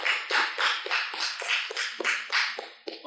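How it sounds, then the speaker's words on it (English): Audience at a school district back-to-school convocation applauding Teacher of the Year finalists, heard as rhythmic, evenly pulsing clapping that carries steadily with no talk over it. "Let's give our finalists a big round of applause"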